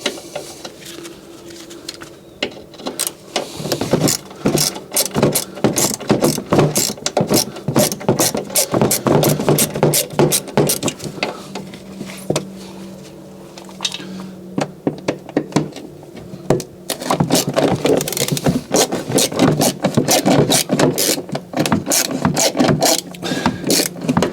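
A ratchet spanner undoes bolts on a 2011 Fiat 500 Lounge salvage car, producing rapid runs of loud, close clicking with brief pauses between bursts.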